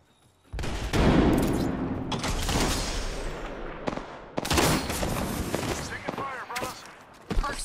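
Gunfire in the shooter game Apex Legends: sustained loud automatic bursts with booming impacts and explosions, broken by short pauses, with in-game voice callouts mixed in.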